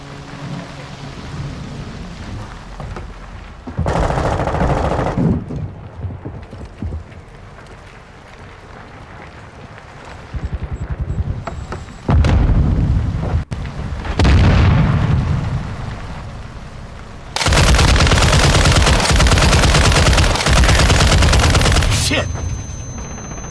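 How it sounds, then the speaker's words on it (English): Bursts of automatic gunfire and explosions in the Call of Duty Modern Warfare 2 video game, loud and broadband, arriving in several heavy volleys with short quieter gaps between them. "Taking effective fire!"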